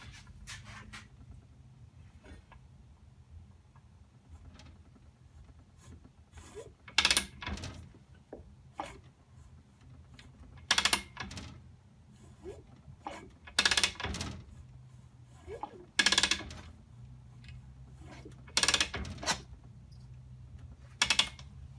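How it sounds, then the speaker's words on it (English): A rebuilt two-stroke Suzuki RM 250 engine turns over under its kickstarter, a series of sharp mechanical clacks and ratcheting strokes repeating irregularly over a quiet low hum, close by with no talking. "now with the bolt and then to the kickstart, we can see if the motor turns over"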